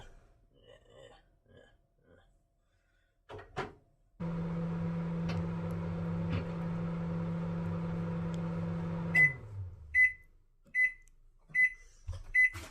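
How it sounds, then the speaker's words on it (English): Soft handling clicks and a microwave door closing, then the 1200-watt microwave hums in a steady drone for several seconds before stopping, followed by a series of short repeated beeps. "put it in the microwave for 1 hour on 1200 watts"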